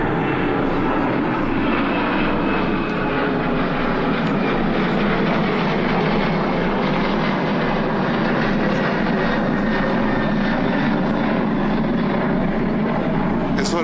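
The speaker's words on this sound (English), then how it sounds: "I hope we'll finish before another plane." An airplane passes overhead as a steady, loud engine roar that holds throughout, with a faint voice in the background.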